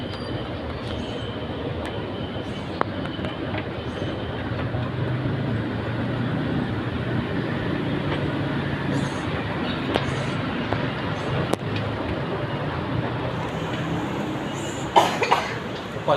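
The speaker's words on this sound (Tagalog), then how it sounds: "Tignan mo na yung LRT." Kuala Lumpur LRT light rail train rolling along steadily, a continuous low rumble with faint rail clatter and brief squeals heard from on board, with a few scattered background sounds.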